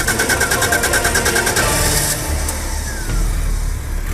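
A stock 1993 Jaguar XJ6 with 223 horsepower revs loudly close by, starting with a rapid pulsing throb that shifts into a steadier engine drone as the revs change.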